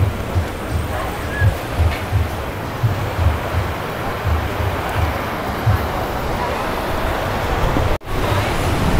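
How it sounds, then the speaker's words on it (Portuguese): Ocean waves at Ponta Negra beach in Natal at low tide, a continuous close wash of surf with rolling low rumbles and wind buffeting the microphone, with a brief dropout near the end. "Vamos mostrar aqui como é que tá esse marzão de hoje."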